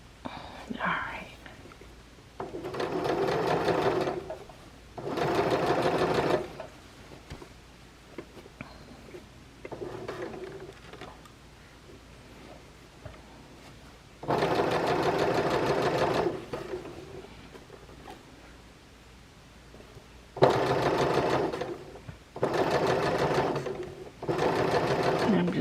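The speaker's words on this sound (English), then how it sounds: "I'm just sewing right up to the edge here." A sewing machine stitches fabric for a dress top in several bursts of rapid whirring, each lasting a few seconds, separated by quieter gaps where whispery talk can be heard.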